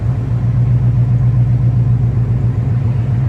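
A Corvette engine with a fault that makes its RPMs swing low and high, heard as a loud, close, steady low rumble with no talking.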